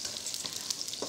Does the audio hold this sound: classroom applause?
no